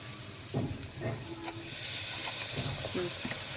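Garlic paste poured into a hot pan while cooking small fish with eggplant and taro, giving a steady hissing sizzle that swells after the first second or two, with people talking over it.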